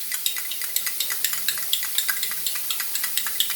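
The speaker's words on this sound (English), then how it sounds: "And what I do here is I stir it till it's thoroughly dissolved." A spoon stirs half a teaspoon of Himalayan salt into hot water in a glass, quick rhythmic clinks and swishes repeating steadily, close and clear with no talk.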